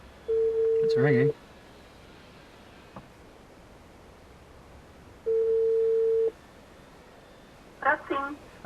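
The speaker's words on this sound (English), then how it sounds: "It's ringing." Telephone ringback through a car computer's hands-free call: two long, steady ring tones separated by a quiet gap, with brief rustles and a faint voice near the end.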